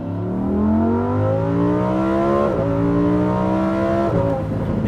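Lamborghini Huracan Sterrato engine at full throttle, revving loud and close as it climbs through the gears, with two quick shift breaks and a continuous rising roar.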